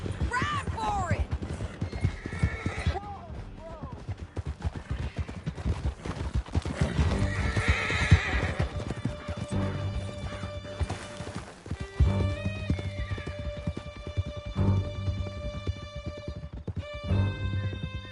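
Horses galloping with a rider in Red Dead Redemption 2, a steady clip-clop of hooves with whinnies and neighs over a rumbling score, with brief talk through the ride.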